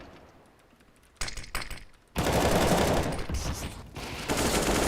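Rapid gunfire in a professional CS:GO esports match: a faint quiet lead-in, then a short burst, then louder sustained automatic fire rattling on until the end.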